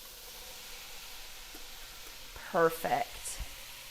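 Green onion and celery sizzling with onions and garlic in oil in a pan, a soft steady hiss close by, with a brief spoken word partway through.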